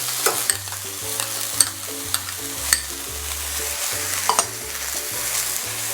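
Capsicum and other ingredients sautéing in a pan, a continuous sizzle broken by several sharp spatula scrapes and taps as they are stirred, close up with no voices.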